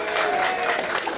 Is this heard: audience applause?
yes